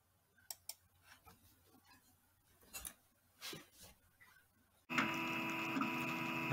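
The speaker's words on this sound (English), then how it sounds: "that's what's going to cut on my cutter" A GCC Expert II LX vinyl cutter works through a print-and-cut sticker job, giving faint scattered ticks and short motor whirs before a steady, louder mechanical drone sets in near the end, with no talking.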